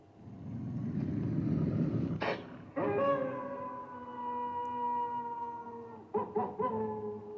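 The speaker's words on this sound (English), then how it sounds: "What does a werewolf sound like? This is a werewolf." A smart speaker's Google Assistant plays a recorded werewolf howl: a long, sustained, wavering tonal howl that rises and holds for several seconds, fairly faint, with a few short clicks near the end.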